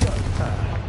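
A Confringo blasting spell in the Hogwarts Legacy video game bursts out as a short, heavy, booming blast lasting under a second.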